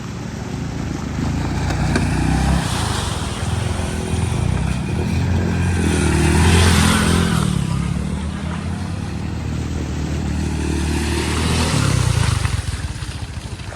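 A tractor drives off, its engine droning and rising and falling as it revs and pulls away. The sound is loud and continuous throughout, with some background voices.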